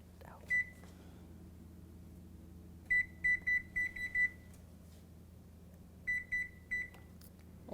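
An oven timer being set for kale chips gives short bursts of high electronic beeps, a single beep followed by two quick clusters of rapid chirps, heard against a quiet kitchen hum.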